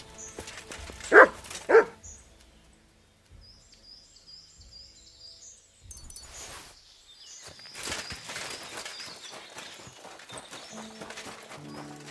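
In Kingdom Come: Deliverance II, a dog gives two sharp, loud barks early on, followed by quieter game ambience with hoof clops and scattered rustling.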